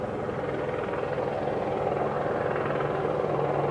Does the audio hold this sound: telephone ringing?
no